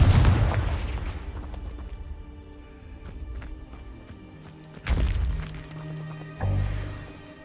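Fiery blast spells go off in a wizarding combat game, with a heavy booming burst at the opening, then two more sharp explosive hits near the end over rumbling low background noise.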